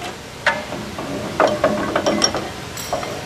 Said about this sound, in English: Raise this up with the lever in the left.